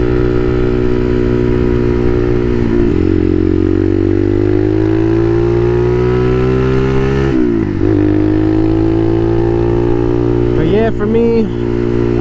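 A Motomax 250 motorcycle engine droning while riding, a loud, close, steady hum that climbs gradually in pitch, dips sharply when the rider shifts, then rises again, with a voice talking over it.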